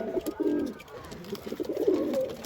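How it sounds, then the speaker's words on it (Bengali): Close, low pigeon coos roll in two soft bursts, warbling and throaty, with no talking. "সব পয়রা বিক্রি করে দেবো আমি কবুতর"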